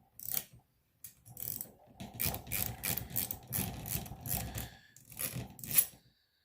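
A hand ratchet clicks in short bursts while removing the nut from a Scion xB rear wiper arm, with close, crisp metallic ratcheting separated by brief pauses.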